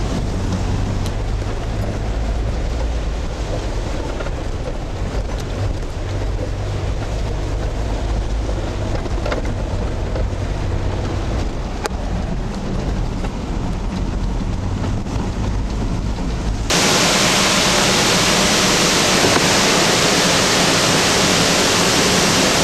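Rain-swollen, muddy yellow floodwater rushes in a continuous loud roar, with a sharp shift partway through to a brighter, harsher torrent of noise.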